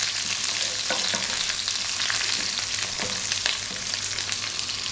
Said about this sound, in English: A couple of teaspoons of cumin seeds and curry leaves. A few seconds in the hot oil.